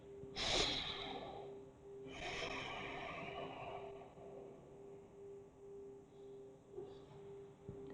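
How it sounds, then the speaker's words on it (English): Deep breathing during an advanced hatha yoga class: two long, close breaths, then quieter breathing over a faint steady hum. "Long inhales and long exhales."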